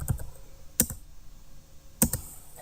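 A few separate keystrokes on a computer keyboard as a folder name is typed, sharp close clicks spaced well apart over a quiet background.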